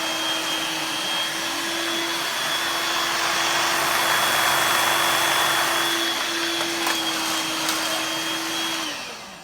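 Dirt Devil stick vacuum cleaner running on a bare floor, a steady loud motor whir with a constant pitch throughout, close by and alone, tapering off at the very end.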